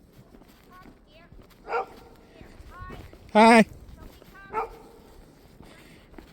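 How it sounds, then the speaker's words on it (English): A dog barks outdoors, a few short separate barks at moderate distance, with one louder, harsher bark in the middle of the stretch, heard amid background noise while a person speaks briefly. "Oh, a dog."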